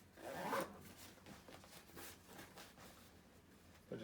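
The zipper on an Osprey Talon 11 backpack is pulled in several quick, rasping strokes, close and fairly quiet, with a final short zip at the end.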